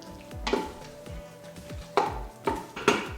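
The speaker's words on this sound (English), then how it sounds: "Let me give this a quick stir." A spoon stirs salsa verde chicken in an Instant Pot with a few sharp clinks and scrapes against the metal pot, spaced over about three seconds at close range. The pot is otherwise quiet and no one speaks.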